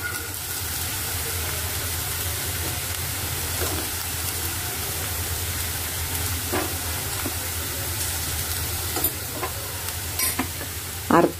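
Okra stir-frying in a pan in a home kitchen, a steady close sizzle with intermittent scraping stirs and a few sharper clinks toward the end, no talk.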